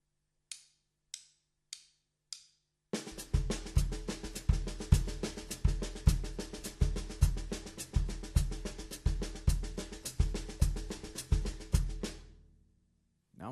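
Drum kit, hi-hat on the offbeats and snare on straight eighth notes with a steady bass drum, playing a brisk cut-time groove for about nine seconds after a few sparse count-in clicks, close and loud, then ringing out.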